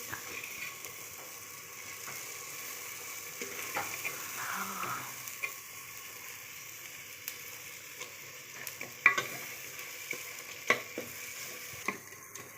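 Masala sizzles softly as it sautés in a clay pot, with a steady frying hiss broken by occasional scraping and clinking stirring strokes, close and fairly quiet, with no voices.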